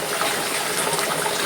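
Milkfish lowered into a pot of boiling water for sinigang, a steady close rush of bubbling and splashing water that fills the whole moment without any voices.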